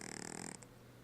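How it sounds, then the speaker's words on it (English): A pet's loud snoring, heard close up as a few rough, rasping breaths that break off partway through the second. "Why are you snoring so loud?"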